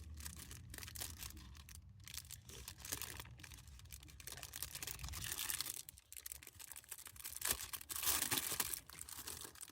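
Quiet, close-up crinkling of a plastic bag, rustling in irregular bursts that swell louder toward the end.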